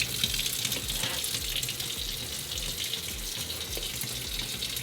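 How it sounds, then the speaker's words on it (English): Tap water runs steadily into a sink while fruit is rinsed before juicing, a continuous close splashing hiss with no talk over it. "So I'm just doing an initial rinse for the fruit."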